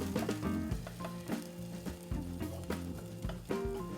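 Chopped garlic sautéing in oil in a pan, frying for a Filipino sinigang, giving a steady close sizzle with soft stirring scrapes and taps.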